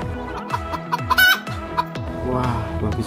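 A hen clucks in a quick series of short, close calls with bursts of fowl chatter, and a rooster is faintly mixed in.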